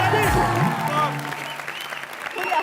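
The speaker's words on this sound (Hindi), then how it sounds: "जोरदार तालियां फॉर किलिंग" A burst of studio audience applause and cheering at a TV comedy show fills the space, with voices shouting over the clapping.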